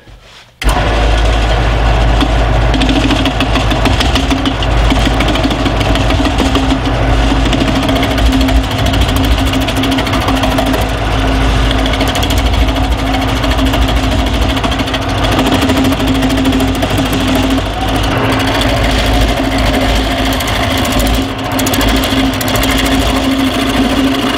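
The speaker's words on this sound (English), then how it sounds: "so we don't have that shimmy in the lathe anymore" A wood lathe spins a mallet handle billet, giving a loud, steady machine drone with a constant low hum and busy rattling texture that runs unbroken for the whole stretch after a sudden start.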